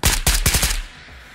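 Bursts of automatic fire from an AK-5C rifle in a video game, several rapid shots in quick succession, loud and close, then cutting off into quiet.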